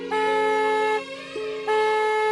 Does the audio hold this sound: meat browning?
no